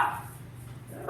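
Dogs bark indoors, with one short bark rising at the end over a muffled, noisy room background.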